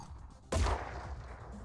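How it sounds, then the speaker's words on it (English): A single sharp pistol shot rings out in the turn-based game Phoenix Point, loud and abrupt with a short rumbling tail. "It is a long way to be trying these pistol shots."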